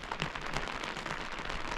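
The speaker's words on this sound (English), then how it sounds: "It's raining, guys." Rain falls outdoors near a sand dune campsite, a steady dense patter that holds at even loudness throughout.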